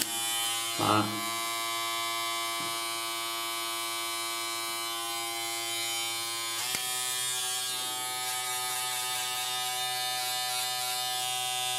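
A Remington F3 foil electric shaver buzzes steadily and close up while shaving, with a constant motor hum and one brief louder bump near the start.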